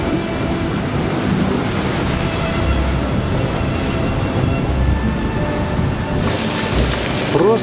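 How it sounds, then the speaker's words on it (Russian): Dense, steady roar of heavy rain pouring without pause, loud and close, filling the whole stretch. "Просто тропический ливень."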